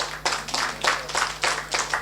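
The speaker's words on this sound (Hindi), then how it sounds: "एक तो छोटी सी ताली मेरे लिए बजा दीजिए।" Small audience clapping at a lecture on real estate for chartered accountants, a brief burst of scattered hand claps in an indoor hall, moderately loud, with a steady low hum underneath.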